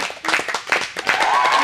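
A live podcast audience claps in a quick, uneven burst of close, loud hand claps that thin toward the end, with a short vocal tone near the close.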